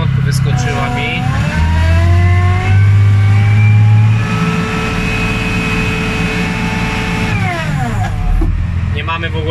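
A Case 5100 series tractor engine revs up, holds a high droning pitch for several seconds, then winds back down, loud and close.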